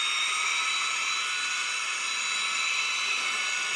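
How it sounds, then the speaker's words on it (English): Chainsaw cutting open a closet in the video game Murder Room, a steady high-pitched whine and buzz held without a break for the full length, loud and alone with no talk. "Instead we take the chainsaw to open"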